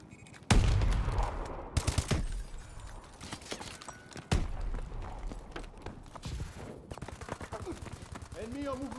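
AK-12 rifle fire in the video game Call of Duty Advanced Warfare: sharp gunshots and short bursts at irregular intervals, some loud and close, among game sounds and occasional faint voice.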